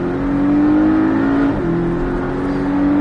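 Porsche Cayman 718S at full throttle on the Mettet race track, a loud steady engine drone climbing in pitch, dipping briefly at a gear change, then pulling hard again, heard close from inside the car.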